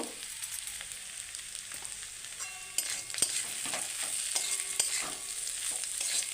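Bread pakora fries in hot oil, a soft continuous sizzle with scattered pops and a few brighter crackles, fairly quiet and close with no voices.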